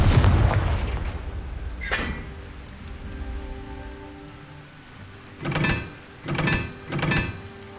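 Confringo explosion spells in Hogwarts Legacy burst with a heavy boom at the start, followed by a sharp blast and then three rapid rumbling explosions in a row.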